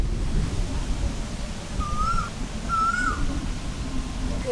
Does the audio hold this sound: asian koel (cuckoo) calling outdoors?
yes